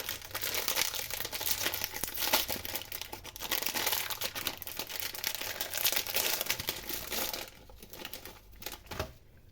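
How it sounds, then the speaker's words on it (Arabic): Oreo cookies are broken inside their plastic packet, with dense, close crinkling and crackling of wrapper and cookie that goes on for several seconds and then stops. "كيس الاوريو طبعا هكسر منه"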